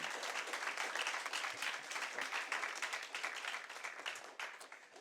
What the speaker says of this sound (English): A round of applause for both our teams this evening.